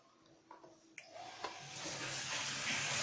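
A Panasonic GP129 JPX water pump switches on with a couple of clicks, then water rushes and gushes steadily and loudly, building into a continuous close flow with no talk.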